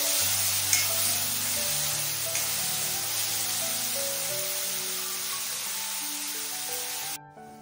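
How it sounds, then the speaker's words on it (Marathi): Chopped onion sautéing in oil in a pan for a bitter gourd (karela) stir-fry: a steady close sizzle with stirring scrapes, running throughout before cutting off abruptly near the end. "कांदा आपल्याला परतून घ्यायचा आहे।"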